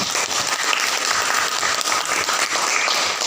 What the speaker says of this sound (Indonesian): Beri aplaus dulu untuk kelompok 4